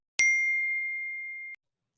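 A single bright phone SMS notification ding rings out cleanly, its tone sustaining and slowly fading for over a second before cutting off, with no talk around it.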